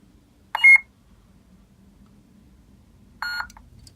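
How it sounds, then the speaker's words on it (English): Two short electronic beep bursts from a Roman Props MK1 lightsaber prop changing sound font, a few seconds apart, sound close and clear over a quiet low hum. "And then press and hold 2 beeps, change the sound font."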